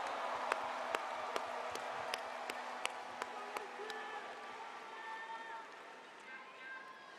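Audience applause at a party convention, with a broad wash of clapping and crowd noise filling the hall, sharp individual claps standing out early before the sound gradually thins and fades.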